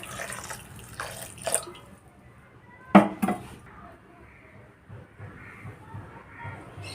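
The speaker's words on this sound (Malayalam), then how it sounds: "ഈ ആവശ്യത്തിനുള്ള വെള്ളം ഒഴിച്ചു കൊടുക്കാം കേട്ടോ" Water splashes into a mixer grinder jar holding coconut for a sardine curry, with brief pours and clinks at close range and a quiet, fairly still stretch between them.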